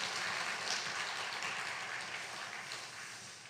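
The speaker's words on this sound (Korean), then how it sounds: "하나님께 영광의 박수 올려드립시다" A church congregation applauds together in a sustained, dense wash of clapping that fades gradually, with no voices standing out.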